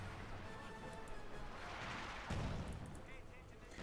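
A grenade detonates in the World War II strategy game Company of Heroes 2 as a muffled blast, heard under continuous battle noise and a commentator's talk.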